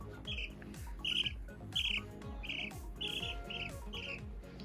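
One-week-old baby chicks peep and squawk while being handled, repeated high chirps in a steady rhythm close by, alone over faint background noise.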